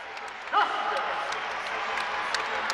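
Fans in Diddle Arena at a Middle Tennessee at Western Kentucky basketball game keep up steady applause and cheering, a broad crowd roar with a brief louder shout near the start and a voice rising over it.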